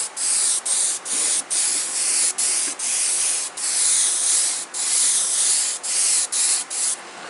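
An airbrush sprays purple paint in a steady, close hiss broken by a dozen brief pauses as the trigger is released and pressed again, with no voices.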